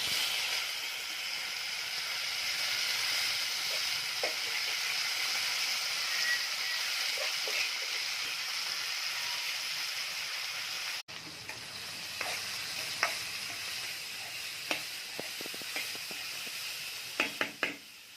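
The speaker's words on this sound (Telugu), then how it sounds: "అర స్పూన్ ఆవాలు వేసుకున్నాను, అర స్పూన్ జీలకర్ర వేసుకున్నాను, కరివేపాకు వేసుకుంటున్నాను." Mustard seeds, cumin and curry leaves sizzle in hot oil in a pan, a steady close hiss that shifts partway through as more ingredients go in, followed by scattered pops and clinks from stirring.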